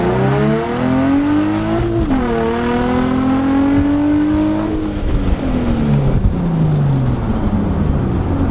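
An Infiniti G35 fitted with a big bore throttle body accelerates hard, its engine note climbing loud and close through the revs, dipping at a shift and rising again before easing off.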